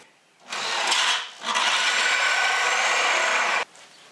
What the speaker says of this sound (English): drilled the pilot hole, and I need an 1 3/4 inch drill bit.